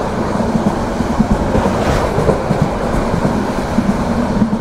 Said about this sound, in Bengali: চমৎকার একটি কার্ভ নিচ্ছে আমাদের ট্রেন